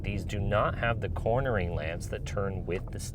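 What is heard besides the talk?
No everyday noises stand out.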